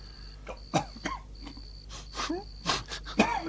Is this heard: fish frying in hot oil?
no